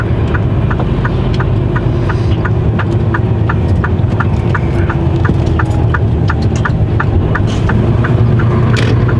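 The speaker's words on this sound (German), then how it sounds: "Und jetzt geht's wieder, jetzt fährt's Auto wieder." A repaired car engine, its fuel line patched by an emergency service, runs steadily with a loud, even throbbing idle and a regular ticking pulse repeating about twice a second throughout, with no talking.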